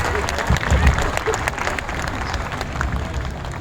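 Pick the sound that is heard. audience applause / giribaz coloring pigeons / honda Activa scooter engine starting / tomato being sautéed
audience applause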